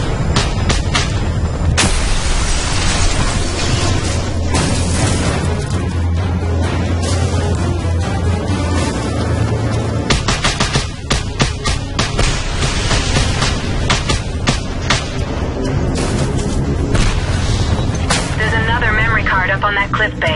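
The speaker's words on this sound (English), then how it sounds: "Cannon." Heavy cannon fire in the open-world action game Just Cause 2, loud and dense with repeated booming blasts over a continuous roar of explosions and engine noise, with a voice speaking in the mix.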